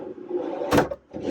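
A drawer in the kitchen of a 2002 Roadtrek 200 Class B camper van slides with a short, close wooden rumble and a soft knock, then a brief pause before another sliding movement.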